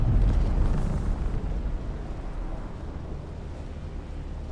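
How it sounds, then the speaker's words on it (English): A spice geyser erupts in the video game Dune: Awakening, a deep, heavy rumbling blast that starts strong and slowly fades into a sustained low roar, with no voices. "there was a spice geyser, spice explosion over there"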